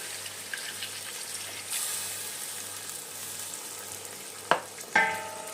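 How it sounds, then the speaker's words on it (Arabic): Homemade tomato paste sizzles steadily as it is stirred into a hot frying pan for Algerian chtitha, with two sharp utensil knocks against the pan near the end. "وهلا بننزل بمعجون الطماطم اللي سويناه"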